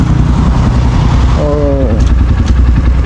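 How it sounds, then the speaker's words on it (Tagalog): A motorcycle engine runs steadily nearby on a rough mountain road in Benguet, a loud low rumble throughout, with a brief higher whine rising in the middle. "para hindi masyado maingay yung motor ko"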